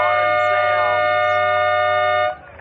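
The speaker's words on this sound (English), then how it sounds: "Siren" A single steady siren blast sounds for about two seconds at three-quarter time of an under-18 grand final football match at Gembrook, then cuts off abruptly, leaving faint background noise.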